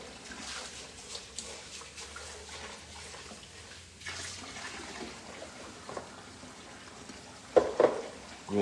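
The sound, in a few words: tap water running while rinsing turkey necks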